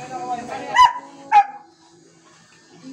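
A dog gives two sharp barks close by, about half a second apart, with a little background speech around them.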